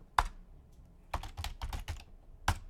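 Keys on a computer keyboard typed in an irregular burst of close, crisp clacks, one isolated press, a quick cluster of several strokes, then a final tap.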